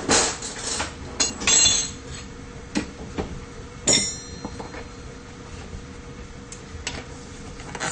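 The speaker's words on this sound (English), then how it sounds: "Let me get the spoon." A metal spoon clinks and scrapes against a jar while scooping almond butter in a home kitchen, giving several sharp, close taps early on and scattered lighter clinks afterward.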